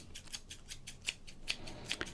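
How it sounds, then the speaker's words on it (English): Steel scissor blades snip in a quick, uneven series of sharp clicks, close and crisp, with a few louder cuts standing out against a quiet background. "I'll stop talking over the scissors."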